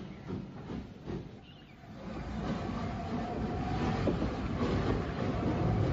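Southeastern Chatham P-Class 0-6-0 steam tank locomotive shunting at a harbour, a steady broadband rumble and hiss of steam and rolling stock that swells gradually louder over several seconds, with no voices.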